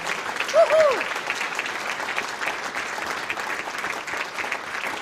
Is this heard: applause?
yes